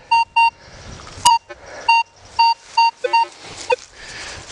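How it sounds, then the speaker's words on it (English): A Minelab Vanquish metal detector sounds a series of short, loud, clear beeps on a buried target in a grassy field, repeating unevenly about every half second with faint background rustling. "Raise the detector up, picking it up at about an inch."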